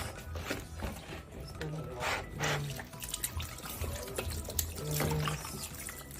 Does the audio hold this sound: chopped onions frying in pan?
no